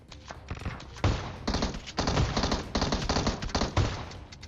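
Shotgun fire in the BGMI video game, a dense rapid barrage of loud booming shots and thuds, near and continuous, with overlapping impacts.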